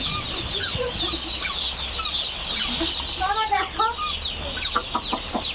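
A flock of broiler chicks clucking and chirping nearby on a farm, overlapping short calls in bursts, with faint rustling and some background noise.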